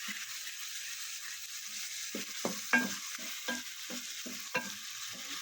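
Chicken with capsicum roasting in a pan: a soft, quiet sizzle with a handful of light scraping stirs at close range, no voices.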